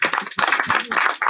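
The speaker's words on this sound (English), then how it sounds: "Let's clap our hands" An audience at a Mashonaland East youth provincial SDG summit breaks into a short burst of hand clapping, a close, dense patter of claps that lasts just over a second, with no voices heard.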